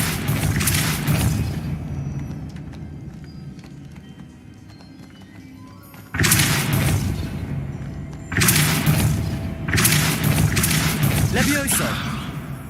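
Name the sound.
Depulso spell impacts in video game Hogwarts Legacy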